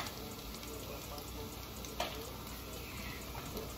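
Bacon frying in a pan makes a soft, steady sizzle and crackle, fairly quiet, with a brief scrape of a utensil midway.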